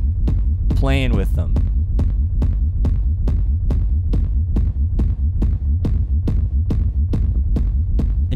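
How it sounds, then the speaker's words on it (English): A techno rumble kick built from stacked low sine waves pounds in a steady, evenly spaced beat of about twenty heavy, booming hits, with a short stretch of someone talking over the first few. "I'm making a rumble by just putting a bunch of low frequency sine waves together and"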